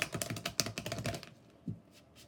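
Tarot cards are shuffled quickly, giving a dense run of soft riffling taps for about a second, then a short pause and a single brief tap, all close and quiet.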